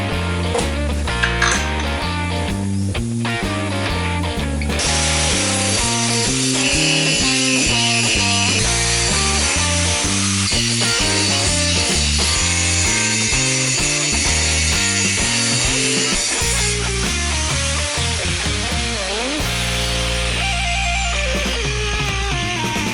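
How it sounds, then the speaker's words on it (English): Angle grinder cutting off the steering lock on a Harley-Davidson motorcycle frame, a loud sustained whining drone that rises and falls in pitch in repeated passes as the disc bites and eases, alone with no talking. "Obviously, as you saw, I used the angle grinder. That's where your steering lock went."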